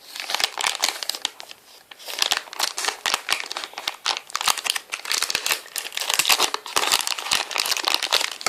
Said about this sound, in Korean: 이제 여기다가 왕꿈틀를 잘라서 넣어줄 거예요